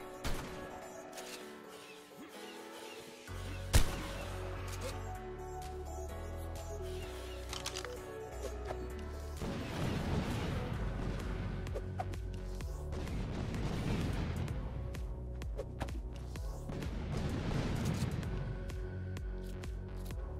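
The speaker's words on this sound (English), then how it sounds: "So the cluster grenades are not doing as much damage as I was hoping for." Cluster grenades go off in the game Ark Survival Evolved: a sharp blast followed by rolling, rumbling waves of explosions and crashing debris, moderately loud and continuous.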